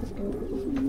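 A pigeon coos once, a soft low throaty call rising and falling close by, among pigeons kept at a loft by a fancier.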